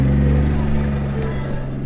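A Mustang with a single-turbo 2JZ inline-six drones loudly and steadily at low revs while towing a tire trailer, and someone talks over it.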